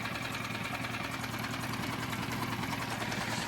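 A Tohatsu 6HP outboard motor idles quietly and evenly, giving a soft, steady low putter with a light rattle and no changes in pace.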